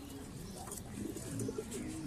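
Pigeons in a breeding room give soft, low, rolling coos, faint against a quiet room background.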